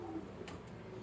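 A pigeon coos softly and low, a faint, brief murmur against quiet background noise.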